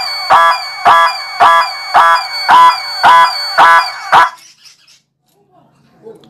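A low-budget motorcycle anti-theft alarm sounds eight loud, evenly spaced electronic whooping blasts, each with a rich stack of harmonics, then cuts off abruptly and leaves near silence.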